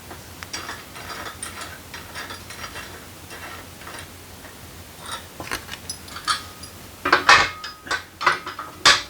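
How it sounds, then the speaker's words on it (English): Safety guard bolts being unscrewed on a red motorcycle lift, a close ratchet clicking in rapid ticking bursts that grow louder and sharper toward the end, with no voices. "The bolts are already in there, so you just have to unscrew them each side here."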